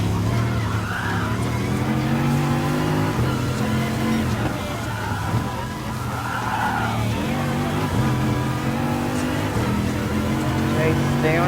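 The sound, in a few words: car engine at full throttle in the video game Gran Turismo Sport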